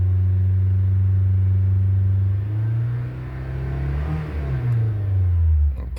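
A 2012 Honda Accord 2.4L engine, recently repaired for random and cylinder 2 and 3 misfires, climbs from idle in a smooth rising rev that hangs at the fuel-cut limit, then falls back, loud and close.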